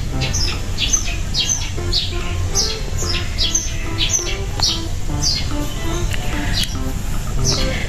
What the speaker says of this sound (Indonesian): Bunyi burung ya kawan-kawan